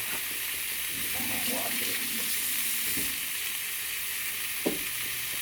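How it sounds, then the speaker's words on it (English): A chunk of food begins frying in a pan, giving a steady close sizzle and crackle with occasional stirring scrapes. "As that is starting to fry up"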